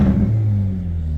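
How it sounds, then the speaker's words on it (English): A 2.0 T-GDi Hyundai i30 N Performance with a modified exhaust revs in N mode, a loud close-up engine and exhaust drone that holds steady for a moment. "I'll quickly give it a rev."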